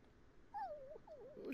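A dog in the video game The Sims 4 gives a high, wavering whimper in two short rising and falling whines, fairly close and alone.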